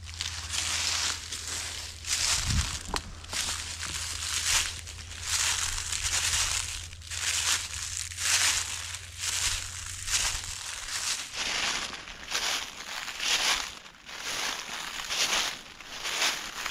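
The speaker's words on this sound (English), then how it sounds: "I hate how loud these leaves are." Footsteps crunching through loud, dry fallen leaves during a hunt in the woods, a steady walking rhythm of crisp rustling crunches heard up close and fairly quiet, with no talking.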